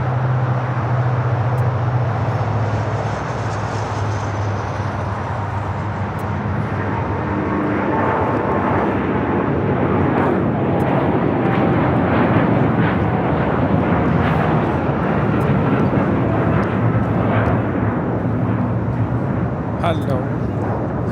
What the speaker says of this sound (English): We have our next takeoff now rolling. It's United Airlines 152 taking off to Hong Kong on the 787-9 Dreamliner.